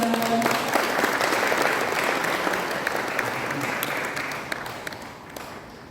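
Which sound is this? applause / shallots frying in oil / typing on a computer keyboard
applause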